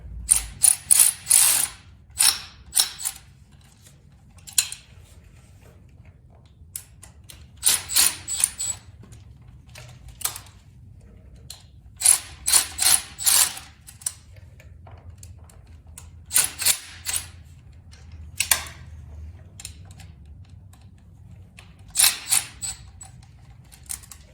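A hand ratchet tightens bolts on the clutch cover of a Honda CB750 motorcycle in bursts of rapid clicking. The close, sharp pawl clicks repeat in short runs separated by brief pauses.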